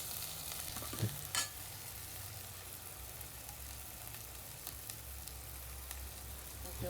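Soya chunks fry in oil-rich masala in a pan, giving a steady close sizzle with stirring scrapes and a couple of sharp utensil knocks near the start.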